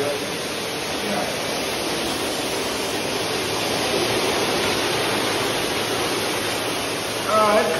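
A carpet cleaner's hard surface wand sprays and extracts water from a hard floor, giving a steady, loud rushing hiss of spray and suction that continues without a break.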